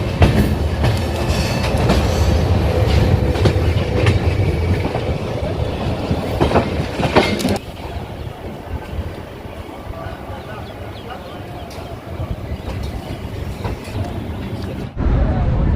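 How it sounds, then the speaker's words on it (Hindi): The Indore to Patna Express pulls into Patna Junction with loud, close rumbling and clickety-clack from the wheels. The noise drops partway through as the train slows, then settles into a lower steady rumble. "तो अभी अपनी ट्रेन आके खड़ी हुई है पटना जंक्शन पे"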